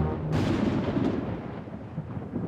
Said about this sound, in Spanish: El cielo se está oscureciendo cada vez más.